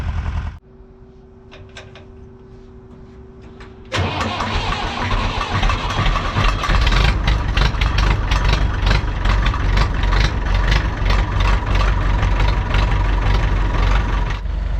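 A Massey Ferguson diesel tractor engine cranks and catches, then runs at a loud, steady idle with a rough, throbbing rumble nearby.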